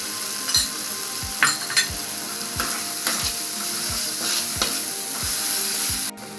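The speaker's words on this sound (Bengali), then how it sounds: "দেখুন আমি কিন্তু অল্প অল্প জল দিয়ে মশলাটাকে কষিয়ে নিচ্ছি" Masala spices cook down in oil with small splashes of water in a pan while making chole, a loud continuous sizzle cut by regular rhythmic scrapes of the spatula about every half second, with one sharp knock near the end.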